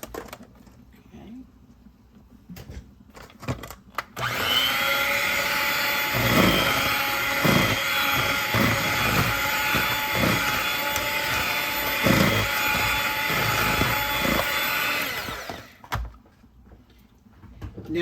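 Electric mixer whirring steadily through apple cider cookie batter for about ten seconds, loud and close with bumping knocks from the bowl, preceded and followed by quieter handling sounds.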